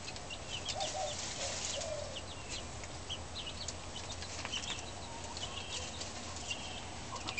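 Young chickens in a cage cluck and peep softly at close range, a quiet, scattered chorus of short calls over low background hiss, with no talking.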